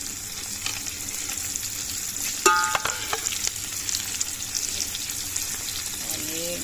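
Sliced bell peppers frying in a chicken yakhni vegetable pulao pot over a village wood fire, a steady loud sizzle with a burst of clattering stirring in the middle and continued frying after.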